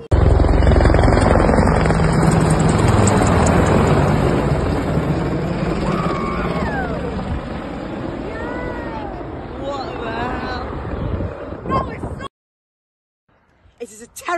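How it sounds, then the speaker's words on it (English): An aircraft flies over a countryside footpath on a Silver DofE hike, a loud continuous roar that fills most of the stretch with shifting whining tones, then cuts off abruptly near the end. "Cue the flyover."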